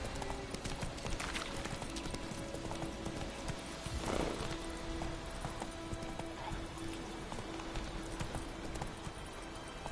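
Steady clip-clop of Roach, the horse in The Witcher 3 video game, galloping across open ground for the whole stretch, with a brief whinny in the middle and game ambience and music tones underneath.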